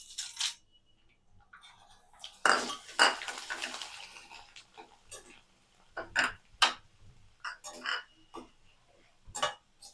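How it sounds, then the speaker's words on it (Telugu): Corn flakes for a puffed rice murmura masala are roasted in a pan, heard as scattered dry rattling and scraping bursts of stirring, separated by quiet gaps and fairly faint overall. "ఇప్పుడు ఈ కార్న్‌ఫ్లేక్స్ కూడా వేయించుకోవాలి."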